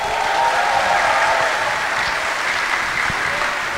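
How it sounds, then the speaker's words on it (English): An audience at a local Dancing with our Stars community event applauds the dancers and staff, producing dense, loud, sustained clapping from a large crowd that fades only slightly toward the end. "a round of applause for the entire group of dancers and staff and sponsors and volunteers that make tonight happen"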